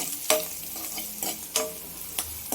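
Ground coconut and green chili masala fries in a pan, a soft steady sizzle broken by sharp scraping stirs every half second or so, close and fairly quiet with no talking.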